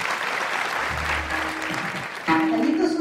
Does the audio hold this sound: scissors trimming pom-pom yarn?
no